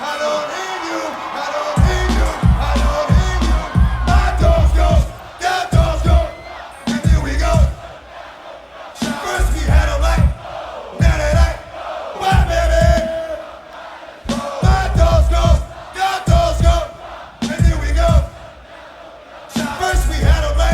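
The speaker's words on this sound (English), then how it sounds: "The crowd was going nuts in a good way." A rowdy festival crowd at the Woodstock '99 DMX set roars and yells in loud, rhythmic surging bursts, with massed shouting rising and falling between short lulls.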